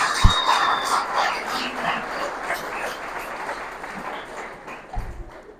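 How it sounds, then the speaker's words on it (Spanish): A church congregation applauds the King of Kings in a broad, sustained wash of clapping that fills the room at even volume, with a few louder thumps at the start and near the end. "Démele un aplauso al Rey de Reyes."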